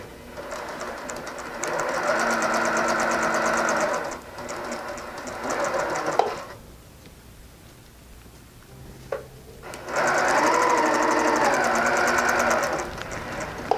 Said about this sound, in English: you're gonna sew a 1/4 inch seam on both sides of what would be the center of these squares